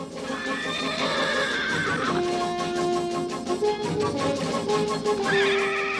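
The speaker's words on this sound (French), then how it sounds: "Attention, les chevaux s'enfuient." Cartoon horses whinny loudly over a busy musical score as they run off, with a few shrill neighs rising above the full, continuous backing.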